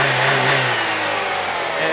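A 2000 Saturn LS1 sedan's 4-cylinder engine being revved, a loud, steady, close-up roar that holds high throughout with a slight dip and rise in pitch.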